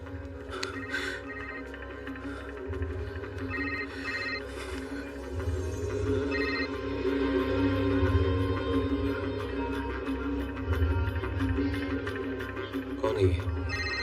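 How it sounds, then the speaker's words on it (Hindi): A telephone rings repeatedly in short patterned bursts over a thick backdrop of music, with voices around it. "किसका फोन आ रहा है?"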